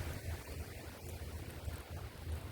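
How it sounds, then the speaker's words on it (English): Steady, faint wind rushes overhead in the distance with a soft low rumble, no voices or other distinct sounds. "you probably are hearing wind from above"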